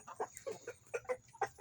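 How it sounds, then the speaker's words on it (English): Free-range chickens clucking in short, rapid bursts close by while feeding, a quick irregular run of calls with no talking. "He goes, buck, buck, buck, buck, buck, buck. That's how he tells the other chickens that it's good."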